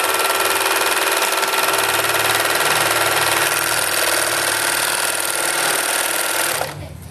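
A sewing machine stitches the last row of cloth baby wipes with a rapid, steady mechanical chatter that runs loudly and evenly before stopping abruptly near the end.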